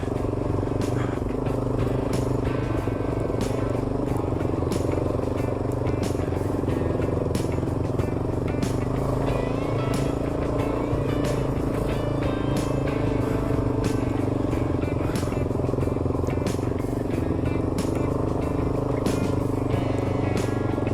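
Motorcycle climbing a steep, loose trail on a Washington backcountry discovery route, its engine droning loud and steady throughout, with rattles and clatter from the rough ground.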